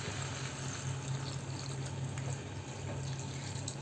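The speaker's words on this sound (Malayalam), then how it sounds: "ചൂടുവെള്ളം ഒഴിച്ചിട്ട് നമുക്കിതൊന്ന് വേവിച്ചെടുക്കാം" Hot water is poured into a pan of crab roast, giving a steady, continuous rushing pour with a low hum underneath, close and moderately loud throughout with no talking.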